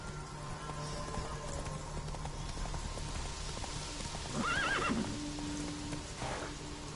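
A horse in The Witcher 3 video game gives a short, rising whinny over a steady clip-clop of hooves, the galloping continuing evenly under the call with no talk.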